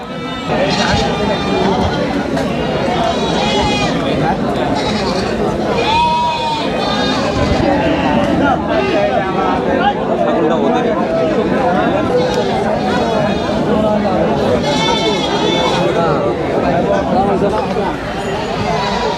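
Goats bleat repeatedly at a busy weekly livestock market, their loud calls rising over constant crowd chatter and nearby talking.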